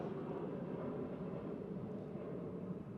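A propeller or jet airplane passes overhead outside a 2023 Toyota Sequoia TRD Pro, a steady broad low rumble holding level throughout with no talk.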